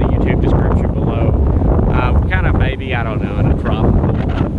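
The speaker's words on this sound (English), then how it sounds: "this is extremely windy conditions" Strong wind buffets the microphone on a beach during stormy, tropical-storm-like conditions, a loud continuous rumbling roar with gusty swells, while a person talks over it throughout.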